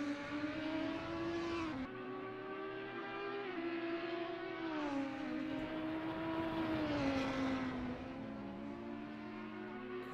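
A race car in a sim racing game at Road Atlanta pulls out of the pit lane, its engine a loud, steady drone that rises and falls in pitch through the gears, alone with no talk.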